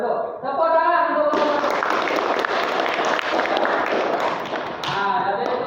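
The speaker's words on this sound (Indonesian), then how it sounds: "Tepuk tangan dulu." Classroom applause at a junior high school in West Sumbawa, Indonesia, as students clap for a group presentation: dense, loud clapping fills most of the stretch, with speech heard over its start and end.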